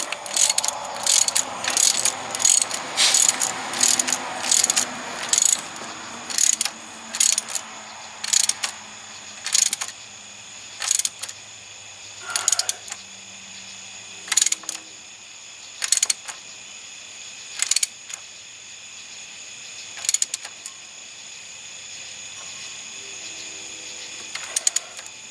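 Ratchet wrench tightening a heater hose adapter on a 1998 Chevy 1500 with a 5.7L engine, a long series of crisp repeated clicking strokes, quick at first and then slowing to spaced bursts, close and fairly clear.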